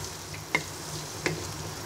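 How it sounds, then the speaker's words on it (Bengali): Low sizzle of garlic and tomato spice paste frying in a pan, broken by two distinct scrapes of a spoon stirring, close and fairly quiet with no voices. "এবার মশলাটাকে ভালো করে নেড়ে নিব।"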